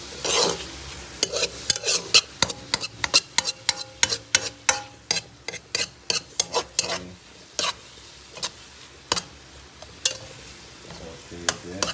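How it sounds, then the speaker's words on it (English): Steak marinade sautés in butter under a series of sharp, rhythmic utensil strokes against the pan, close and loud, with a light sizzle running beneath. "Everything is butter or sauteed with butter."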